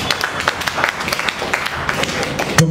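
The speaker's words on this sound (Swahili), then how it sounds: "Tupigie Yusufu makofi." An audience applauding at a Swahili-language Friday church service, a steady patter of many hands clapping throughout, fairly close and even, ending with a brief louder burst.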